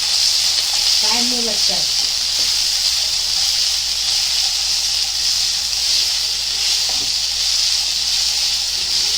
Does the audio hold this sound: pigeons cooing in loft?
no